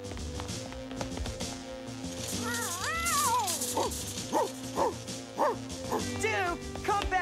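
A cartoon dog lets out a run of yips and barks, several short bursts in quick succession that rise and fall in pitch, over light background music.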